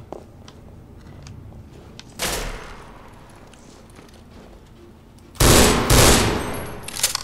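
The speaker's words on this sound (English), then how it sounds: "More turrets." Turret gunfire in Half-Life 2, a brief burst early on, then a louder, denser rattling burst near the end, over a low game background.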